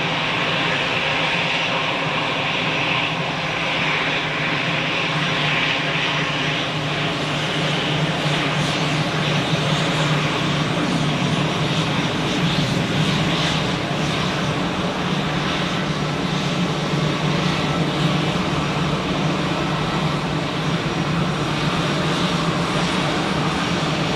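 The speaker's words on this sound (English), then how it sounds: "Here we have an EasyJet A320 being pushed back from the gate while simultaneously a Lufthansa A320 is taxiing in" Airport apron at Zurich, with an EasyJet Airbus A320 being pushed back from the gate while a Lufthansa A320 taxis in nearby; a steady, loud roar of jet engines holds throughout with no break.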